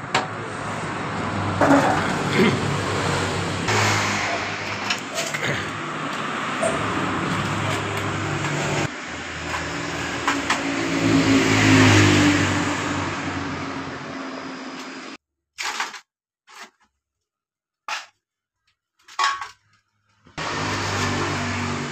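A Yamaha Mio M3 scooter engine that is hard to start runs rough, surging and dipping unevenly at close range, then dies and gives a few short sputtering bursts separated by silence.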